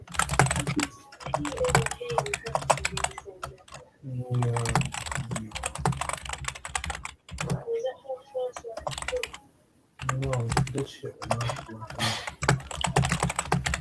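Rapid typing on a computer keyboard to post a message in a chat, the clicks running steadily under someone talking almost continuously, with a couple of short pauses.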